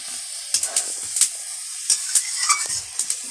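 Soybean chunks and fried potato being stirred into simmering coconut milk for a Bengali malai curry, giving a steady soft bubbling hiss broken by several sharp scrapes and knocks of a spoon, close and moderately loud.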